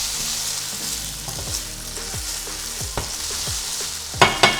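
Tofu pieces fry until crisp in a pan, with a continuous close sizzle and intermittent scrapes and clacks from stirring, the loudest knocks arriving near the end.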